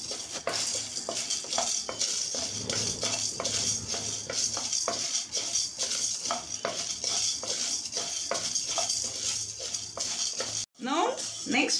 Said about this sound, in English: Take dhania and fry.